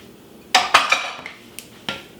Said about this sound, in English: I'm going to go ahead and mix these wet ingredients together